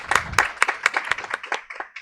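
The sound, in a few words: audience applauding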